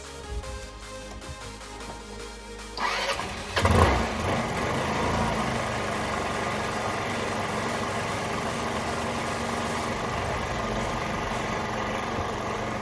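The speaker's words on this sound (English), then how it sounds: "just gonna see if this will cold start" A Lexmoto FMR 50 motorbike engine cold starts after a brief cranking burst and catches at once, then settles into a steady, close, continuous idle drone with no talking.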